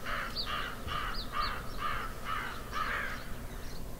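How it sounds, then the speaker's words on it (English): Crows cawing outdoors on a cold morning on the road to Taos, a series of about seven harsh caws in an even rhythm, moderately near with faint background noise. "A lot of birds here."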